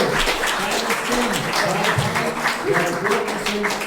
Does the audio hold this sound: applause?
yes